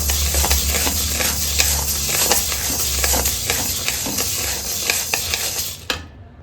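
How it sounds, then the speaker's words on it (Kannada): Urad dal dry-roasts in a pan, with loud, close, continuous rattling and scraping as the lentils are stirred, until the sound cuts off abruptly near the end. "ಒಂದು ಬಾಣಲಿಗೆ ಕಾಳು ಹಾಕೊಳ್ಳೋಣ ಚಂದ ಫ್ರೈ ಮಾಡ್ಕೋಬೇಕು"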